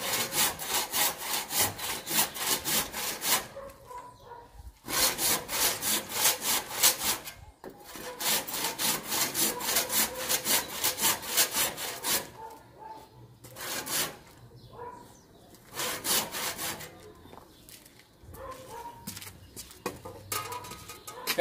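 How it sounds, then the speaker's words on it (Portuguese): A hand saw cuts through wooden framing for a timber plate joint, with loud rhythmic back-and-forth rasping strokes in several bursts separated by short pauses. "Aqui, ó, eu tenho que continuar no serrote,"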